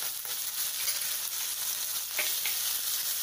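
A paste of coriander, ginger and chili sautés in a hot pan with curry leaves, a continuous close sizzle with a couple of brief stirring scrapes, no talking.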